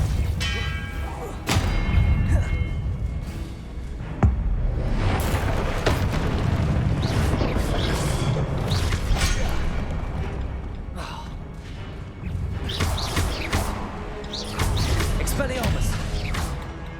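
Expelliarmus and Depulso spells are cast in Hogwarts Legacy, bringing loud, repeated magical blasts, thuds and crashing impacts over a dense game soundtrack, with no pause across the sequence.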